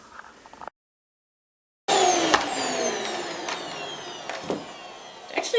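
A Panasonic Jet Force bagless upright vacuum cleaner with cyclonic suction picks up Christmas tree needles from a bare floor, roaring loud and steady after a brief pause, with scattered crackles and ticks as needles are drawn in.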